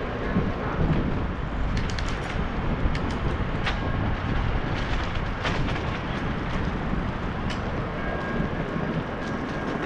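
A broad, heavy rumble with rattling clanks rolls on steadily throughout, like a train passing at close range, loud and continuous.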